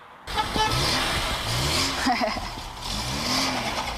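A car drives through city streets in Kherson, its engine and road noise a steady rumble, with passing traffic and a short horn toot. People talk over the top throughout.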